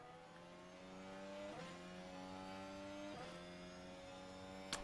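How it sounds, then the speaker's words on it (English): Formula 1 race car engines started and revving on the grid for the Miami Grand Prix, a steady blended drone with pitch shifts near 1.5 and 3.2 seconds, heard from a broadcast without talk. "Engines are on."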